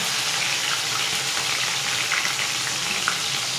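Sliced onions dropped into hot oil in a pan, giving a steady loud sizzle and frying hiss throughout with faint stirring, no voices.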